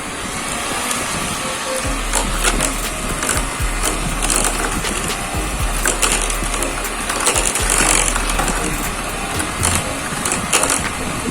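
Cupcake batter with eggs being mixed in a bowl, a steady scraping, knocking churn with a low hum underneath, continuous and fairly loud with no talk.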